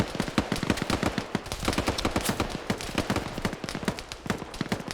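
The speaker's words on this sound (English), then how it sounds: "but now he's taking ground fire" Rapid bursts of video game gunfire crackle in dense, uneven volleys, sharp close shots mixed with fainter distant ones, continuing throughout with no voices.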